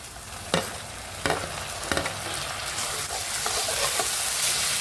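Coriander paste and tomatoes sautéing for chole, a steady close sizzle with a few sharp clatters of a spoon stirring against the pan early on, no voices.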